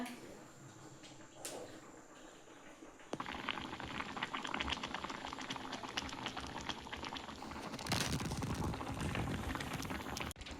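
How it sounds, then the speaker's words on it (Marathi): Fish curry simmering at a rolling boil in a pot, a steady bubbling and sputtering that grows louder after a few seconds and continues throughout. "तर आता कालवणाला उकळी आली"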